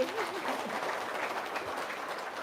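Audience applause, a moderately loud and even patter of many hands clapping that continues for a few seconds with faint murmuring underneath.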